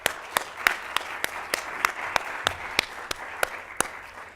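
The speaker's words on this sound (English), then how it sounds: "please join me as we start things off with a round of applause" Audience applause at a NASDAQ closing bell ceremony in Times Square, a steady wash of many hands with a few sharp, louder claps standing out at fairly regular intervals, fairly close and continuous throughout.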